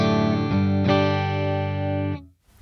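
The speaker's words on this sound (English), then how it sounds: "Here's the sound of the Kemper amp." Electric guitar played through a Kemper Profiler amp profile: a few sustained, harmonically rich distorted chords, struck three times in quick succession and ringing loud and steady before being cut off abruptly.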